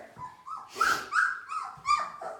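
A puppy whimpers and whines in a string of high, wavering cries, close by, with small yips mixed in.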